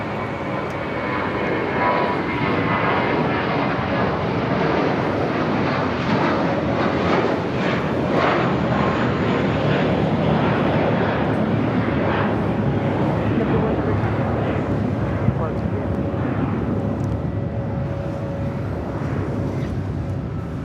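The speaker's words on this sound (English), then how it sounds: "A JetBlue flight heading to Fort Lauderdale, flight 100 at A321." A JetBlue Airbus A321 jet at Los Angeles International Airport roars steadily and loudly for the whole stretch, a broad continuous engine rush with a faint tonal whine, near and unbroken.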